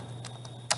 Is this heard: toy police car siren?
no